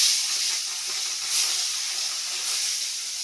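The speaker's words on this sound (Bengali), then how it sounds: "ট্যাংরা মাছ প্রচন্ড ফাটে, ফুটপাট ফুটপাট।" Gangetic mystus (tengra) fish sizzles loudly in hot oil, a steady bright hiss with a few louder spattering swells and no talk over it.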